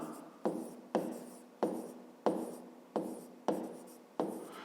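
Pen strokes of a handwritten math solution for a 5th-grade exercise, a steady series of about seven scratchy scraping strokes repeating roughly every 0.6 seconds, close and clear with no voices.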